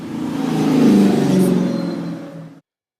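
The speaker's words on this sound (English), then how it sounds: "besides the loud motor that came past" A loud car motor roars past close by, swelling to a peak and then fading before cutting off abruptly into silence, with no talk over it.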